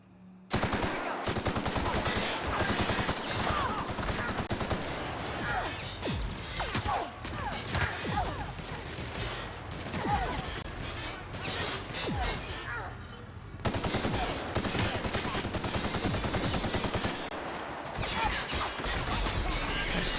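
Rapid gunfire from The Outer Worlds video game runs almost without a break: dense bursts of shots and impacts, loud and close, with a couple of short gaps.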